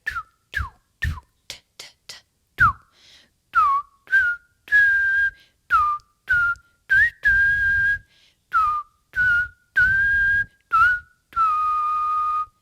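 A recorder plays a D, sounding a series of short tongued notes, then longer held tones, each starting with a quick pitch swoop, in a steady repeating pattern.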